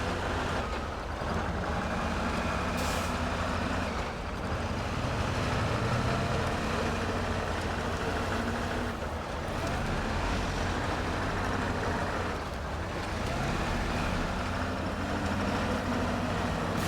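Truck rolling over large stones on a rough track near an electric pylon repair site in Michigan, a steady loud engine drone and rumbling crunch with no talk.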